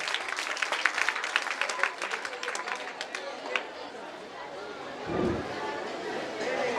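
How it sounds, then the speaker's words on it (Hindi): Audience applause at a student merit award ceremony in a school setting, a dense burst of clapping for the first few seconds that thins and fades, with crowd murmur beneath and a short low thump near the end. "एक बार जोरदार ताली दीजिए।"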